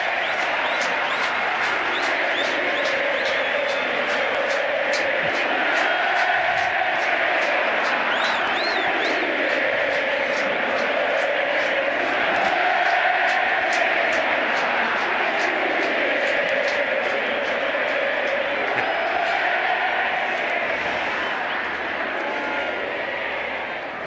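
Argentine rugby supporters at an England versus Argentina match cheer and sing en masse, a dense, sustained roar of voices with rhythmic clapping and chanting that swells and falls across the stadium without letup.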